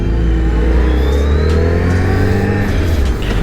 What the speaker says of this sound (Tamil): ஸோ செம்ம டிராஃபிக்காக இருக்குங்க.